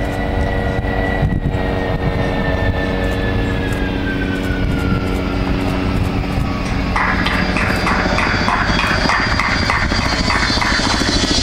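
An Avro Vulcan B2 bomber lands at the Farnborough Air Show, its jet engines producing a loud, continuous roar with a shifting whine that rises in pitch partway through.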